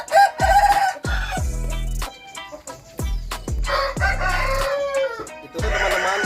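A Bangkok rooster, a game fowl being treated for snot and snoring illness, crows loudly several times in close succession, with clucking between the crows and no talk.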